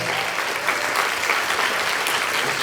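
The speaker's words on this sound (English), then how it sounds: "Seriously, give her applause." Steady audience applause at a puzzle exchange gathering, a dense, even wash of many hands clapping for nearly three seconds without a break.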